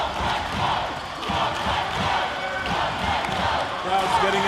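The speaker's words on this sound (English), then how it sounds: "Crowd's getting involved." A crowd at an 18U boys volleyball championship in Ontario makes a steady roar of cheering and chatter in an indoor gym, with a commentator talking over it.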